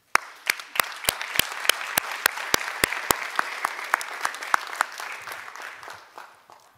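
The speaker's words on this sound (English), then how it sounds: "que je vous demande d'applaudir" An audience at a human rights summit event claps together. A crisp burst of applause starts with loud, spaced claps, then settles into a steady patter that slowly fades.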